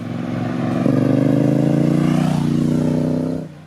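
A Triumph Speed Twin 900 motorcycle engine runs close by, its exhaust thrumming steadily and rising slightly in pitch before cutting off near the end.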